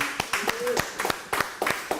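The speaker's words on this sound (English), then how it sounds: "Everybody give it up for Natalie." A live audience at a Houston networking chapter event claps for Natalie in short, uneven bursts of handclaps, with voices mixed in among the clapping.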